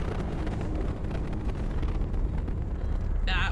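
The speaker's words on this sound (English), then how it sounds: "That was a very long explosion sound" A long explosion in the Mass Effect 2 video game rolls as a deep, sustained rumble that stays loud and churning for several seconds. A brief high-pitched tone cuts in at the very end.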